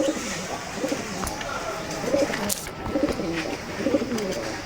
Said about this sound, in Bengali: এই যে কবুতর দুটাই, নর কবুতর দুটাই বেড়ে গেছে।